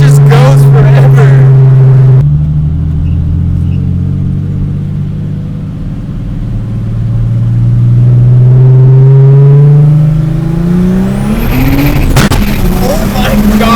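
A 400hp turbocharged BMW E12 with an M30 engine pulls hard in third gear, its engine note climbing and droning loudly from inside the cabin, with an abrupt shift and a rising turbo whistle near the end.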